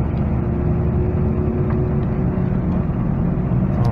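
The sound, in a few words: 2003 Nissan Altima with Walker muffler exhaust while driving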